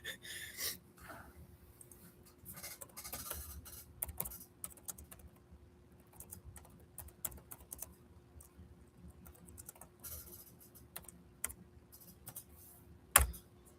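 Quiet, irregular clatter of typing on a computer keyboard, with bursts of rapid keystrokes separated by short pauses and one sharper, louder knock near the end.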